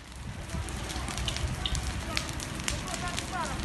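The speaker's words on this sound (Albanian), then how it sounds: "Një zjarr i madh ka përfshirë pyllin e sodës në Vlorë mes ditën e kësaj të mërkurë." A large wildfire burns through a pine forest near Vlorë, its steady crackling roar running throughout with scattered sharp pops, partly under a voice speaking.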